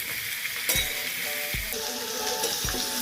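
Raw jackfruit sizzles steadily in a hot pan, with a few scraping stirs and light clinks of a utensil against metal.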